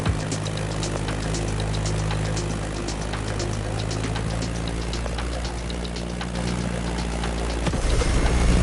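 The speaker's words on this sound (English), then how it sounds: "Beechcraft Stagger Wing is truly a beautiful piece, isn't it? And a great choice for that flight." A Beechcraft Staggerwing propeller plane in flight in The Crew Motorfest, giving a steady, loud droning engine and propeller roar that holds evenly throughout with no talk.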